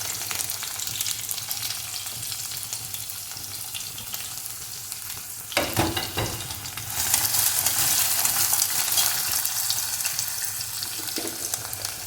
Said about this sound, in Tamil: ஆனியன் கொஞ்சம் வதங்கட்டும்.